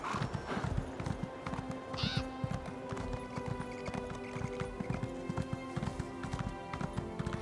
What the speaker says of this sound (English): get on the horse here and...